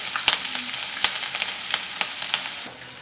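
Hing, turmeric and green chili paste sauté in oil in a pan, a constant close sizzle broken by repeated spoon taps and scrapes.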